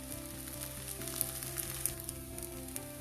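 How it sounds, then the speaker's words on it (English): Masala idli pieces fry in a pan until golden and crisp, producing an even close sizzle with small pops and crackles throughout. "Flip them and fry the other side as well till they become golden brown and little crispy."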